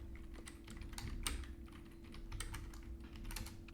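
Quick bursts of keystrokes on a computer keyboard while coding a JavaScript file, soft clicks in rapid clusters at a fairly quiet level over a low steady hum.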